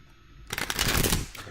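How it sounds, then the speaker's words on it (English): Tarot cards being shuffled by hand, a quick riffling flutter of close, crisp card slaps that starts after a short quiet moment and lasts about a second. "Just give me a moment as I'm shuffling the cards."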